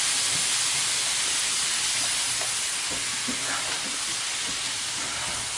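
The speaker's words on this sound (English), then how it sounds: "Yeah, sizzle. That's what you want to hear." Steady loud sizzling hiss of onions frying in a pan, continuous throughout with faint crackles and pops, close by.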